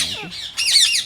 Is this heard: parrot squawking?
yes